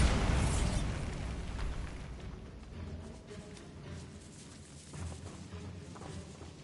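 Bombarda blasting spell from Hogwarts Legacy, a loud explosive burst at the start that rumbles and decays into echoing debris and faint movement in a catacomb.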